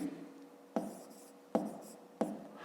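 A pen or pencil scratches out numbers on paper for a fifth-grade math exercise, three short crisp strokes close up and alone, each fading quickly.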